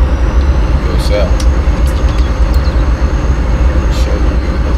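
A locomotive rolling in a train simulator game on the KCS Shreveport Sub, a loud steady rumble of wheels and engine with faint high clicks, while someone talks over it.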